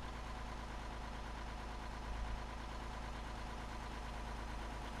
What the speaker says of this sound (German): Und da höre ich gerade einen LKW, ist ein Samek oder so.